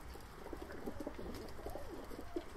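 Sivas play pigeons (oyun kuşu) in a breeder's loft coo in a steady string of low, throaty calls, moderately close, with no talk over them.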